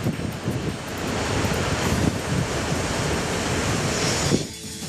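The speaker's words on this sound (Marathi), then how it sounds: "पावसामुळे समुद्राला उधाण आलंय" Sea waves surge at high tide along the Mumbai coast in a continuous broad roar, with wind buffeting the microphone heavily and no voices.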